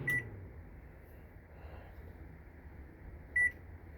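A microwave oven's keypad gives two short electronic beeps as the cook time is set, one at the start and another about three seconds later, over a low steady room hum with no one talking.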